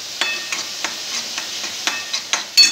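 Black masala, chili powder and turmeric frying in a pan for masala chole, heard as a series of sharp stirring taps against the pan over a faint sizzle, close and fairly regular.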